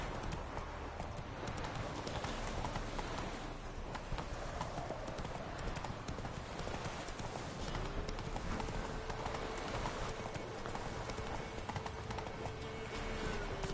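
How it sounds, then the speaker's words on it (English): Horse hooves clip-clop steadily throughout a Witcher 3 game scene, a continuous rhythmic trotting under dense game ambience. "We can still mount Roach"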